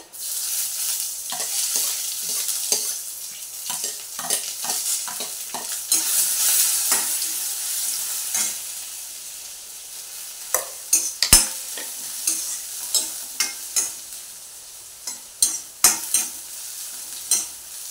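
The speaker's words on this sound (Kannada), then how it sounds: "ಈರುಳ್ಳಿ ಸ್ವಲ್ಪ ಫ್ರೈ ಆಗಲಿ" Onion frying in a pan for a ridge gourd palya with red chili: a steady hiss of sizzling oil, broken by repeated sharp clinks and scrapes of a spoon stirring, growing more frequent toward the end.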